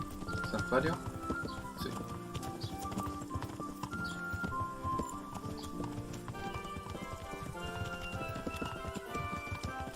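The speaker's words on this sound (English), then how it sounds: "Tenemos un nuevo caballo." Horse hooves clip-clop in the Kingdom Come: Deliverance video game, with steady rhythmic hoofbeats over layered game music and ambience while people talk.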